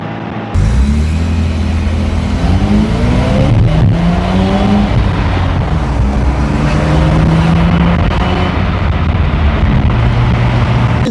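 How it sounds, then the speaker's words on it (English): A Mazda RX7 with a manual transmission is driven. The loud engine drone rises in pitch as it accelerates, drops back and climbs again through the gears, heard close from inside the car with no talk. "I want to have the enjoyment of driving this car, get a little more car time in with the RX7"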